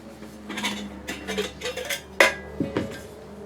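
A 1.5 liter budget metal cook pot is handled up close, giving soft scuffs and rattles followed by a couple of sharp metallic clinks, with no talking.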